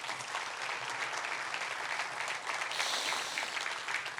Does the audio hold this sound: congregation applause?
yes